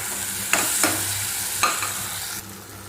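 Green chillies and tomatoes sauté in a pan under a continuous loud sizzle, with a few sharp spatula scrapes against the metal while they are stirred, close up and with no speech.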